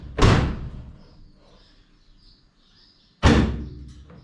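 The trunk lid of a 1951 Chevrolet Fleetline is slammed shut twice, about three seconds apart. Each heavy, close metallic thud rings out briefly before fading.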